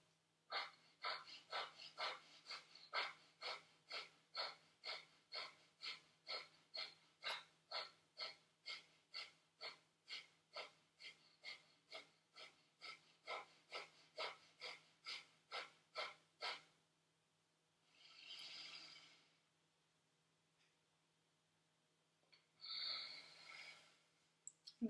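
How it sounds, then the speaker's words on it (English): Kapalabhati yoga breathing: a long run of about thirty sharp, forceful nasal exhalations in a quick steady rhythm, close and clear, then two slower, longer breaths separated by silence. "at the top of the exhalation, I engage Mula Bandhas. So it sounds a little something like this."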